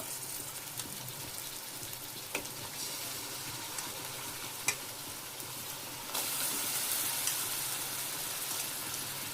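Chicken frying in a pan for biryani gives a constant soft hiss with a few faint pops, and it brightens and grows slightly louder partway through. Close and quiet, with no voices.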